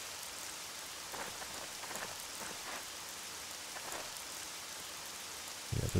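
Steady rain from the video game Jagged Alliance 2 patters across the whole stretch as a dense, even hiss with scattered drop clicks, joined by a louder knock near the end.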